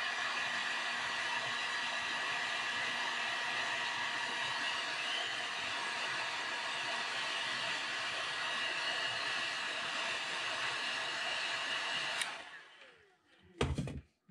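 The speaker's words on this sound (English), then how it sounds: "Basically, I was at arm's length with that heat gun I got." A heat gun heat-sets custom crawfish-pattern paint on a fishing lure, giving a steady, loud blowing hiss that runs unbroken for about twelve seconds. It then switches off, followed by a few brief handling clicks and clatter.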